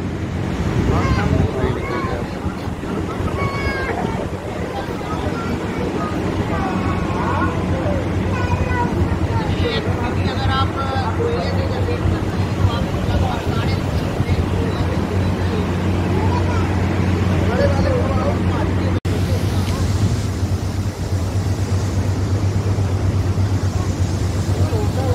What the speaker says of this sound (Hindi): ये यहाँ से पानी निकलता है पूरा